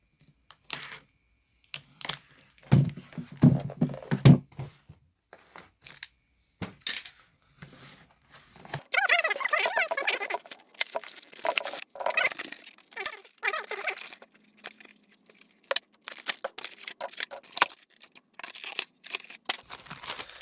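Cardboard rustling, tearing and handling of a Logitech MK240 Nano wireless keyboard and mouse box, with scattered clicks and rattles of items being taken out; no one speaks.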